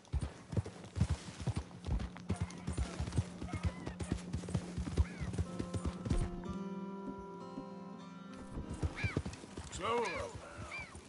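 Horse hooves clip-clop at a steady walking rhythm in the Red Dead Redemption 2 video game, up close, with a horse whinnying and someone talking over the hoofbeats.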